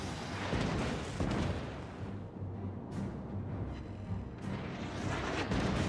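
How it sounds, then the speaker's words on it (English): Heavy naval gunfire from warships in World of Warships: Legends, with dense rolling booms and blasts that fill the whole stretch, several sharper reports standing out amid the continuous low rumble of battle. "So these shells are going to hurt when they hit."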